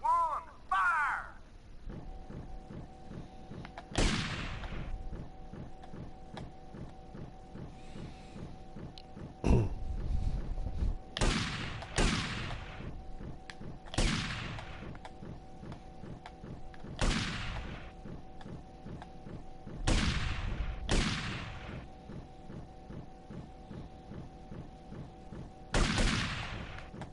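Volleys of gunfire from a firing squad in Grand Theft Auto Vice City Definitive Edition ring out as a series of sharp, loud shots at irregular intervals over a steady low hum of game music.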